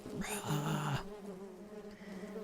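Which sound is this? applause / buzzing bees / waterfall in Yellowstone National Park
buzzing bees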